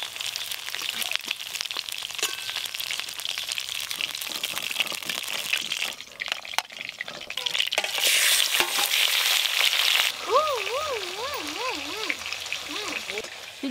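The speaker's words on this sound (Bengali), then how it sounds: "এই কাঁটাগুলো ভাজা হয়ে গেছে" Bhetki fish bones frying in a pan, a steady crackling sizzle with scraping stirs from a spatula, close and loud, with a whistling or squeaking tone near the end.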